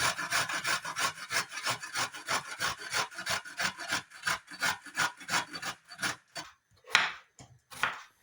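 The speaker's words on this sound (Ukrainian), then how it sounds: "Дві середніх морквини натираю на крупній терці." Two medium carrots rubbed against a coarse kitchen grater, a steady run of close, rhythmic rasping strokes that slows and spaces out toward the end, with no talking.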